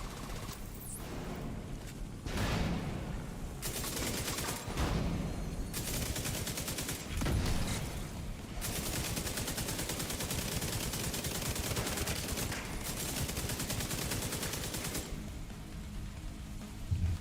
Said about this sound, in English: We're chucking every grenade in the game.